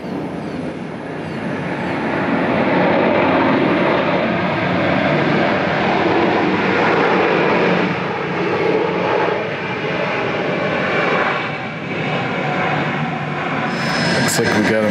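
Airplane engines roar steadily at an Atlanta airport during a US Marshals prisoner transport, a loud continuous broadband drone lasting throughout with slight swells.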